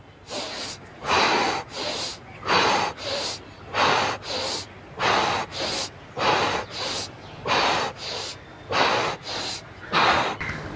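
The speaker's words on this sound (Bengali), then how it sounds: "নিঃশ্বাস নেবার সময় নাক দিয়ে নিঃশ্বাস নেবেন এবং নিঃশ্বাস ছাড়ার সময় মুখ দিয়ে নিঃশ্বাস ছাড়বেন।" Slow, deliberate breathing exercise, drawing air in through the nose and blowing it out through the mouth, about a dozen loud, close breath cycles in a steady rhythm with short pauses between each.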